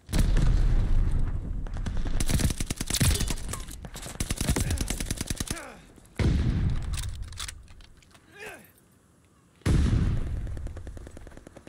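Gunfire and explosions from the Call of Duty Vanguard video game, with dense bursts of shots and heavy blasts through the first half, then quieter gaps broken by further loud hits.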